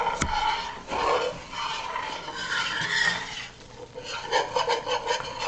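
A roux is stirred in a pot with repeated rasping, rubbing strokes at close range, scraping steadily along the bottom in an uneven back-and-forth rhythm, with no talking.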